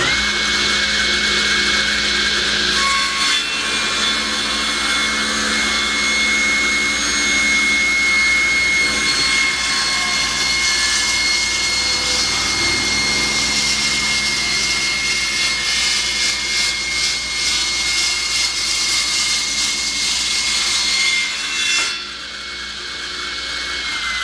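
A power tool cuts off a piece of wood while a fancy wooden rolling pin is being made. It gives a loud, steady, high whine that runs unbroken for about twenty seconds, then drops away near the end, with no talking.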